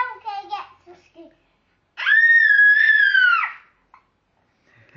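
A voice sings briefly, then breaks into one loud, sustained, high-pitched scream lasting over a second during a Row Your Boat singalong, followed by near silence and soft sounds.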